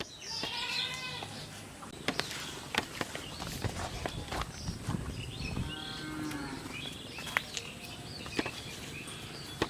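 Cows moo repeatedly at a busy cattle market, with several drawn-out calls near and farther off, over shuffling hooves, footsteps and background crowd noise.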